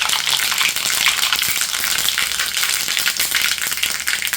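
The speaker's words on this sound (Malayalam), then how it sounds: "എണ്ണ ചൂടായി, നമുക്ക് കടുകിടാം. കടുക് ഇട്ടതിന് പൊട്ടുവാണ്." Mustard seeds splutter and crackle in hot oil, a dense, continuous hiss of rapid pops filling the whole stretch with no voice over it.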